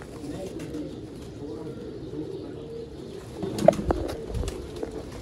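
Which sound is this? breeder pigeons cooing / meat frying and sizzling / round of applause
breeder pigeons cooing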